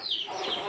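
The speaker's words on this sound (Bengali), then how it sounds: "এদিকে মুরগি দিতে যাচ্ছে" Short, close clucking from a chicken in a village setting, a quick burst of a second or less.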